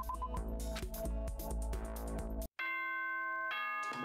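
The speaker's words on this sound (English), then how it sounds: "Ding dong, bing bong." A musical chime plays in Danganronpa: Trigger Happy Havoc as a run of bright bell-like tones over a bass-heavy jingle. A brief silent gap follows, then a sustained ringing chord, with no talking.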